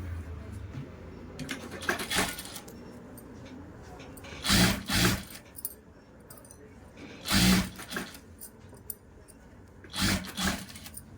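A sewing machine stitching piping onto a blouse neckline runs in four short bursts spaced a few seconds apart, with quiet pauses between them.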